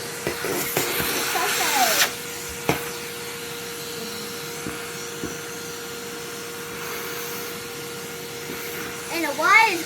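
A red Henry Hoover vacuum cleaner runs over lawn grass, a steady close motor whine with rubbing and scraping as the nozzle moves, and a voice speaks briefly over it.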